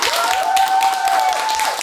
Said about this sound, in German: dann einen kleinen Applaus mal für Markus